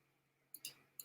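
A few sharp computer mouse clicks, two close together and one a little later, quiet and isolated against a faint background hum.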